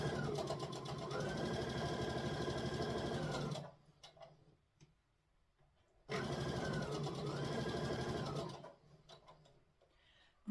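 A domestic sewing machine whirs steadily while stitching a fabric bowl cover, two sustained runs of several seconds each separated by a quiet pause with faint handling noises, close and fairly loud.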